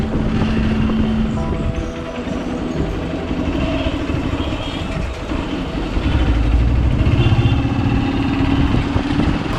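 A Hero Xpulse 200 motorcycle engine runs steadily with a faint odd noise thought to come from the timing chain. The low mechanical rumble and whine hold for nearly ten seconds, growing a little heavier partway through, with no talk.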